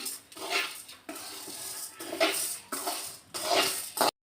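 Lentils dry-roasted in a pan with no oil, stirred in four bursts of scraping and rattling against the metal, close and fairly loud, with short pauses between strokes.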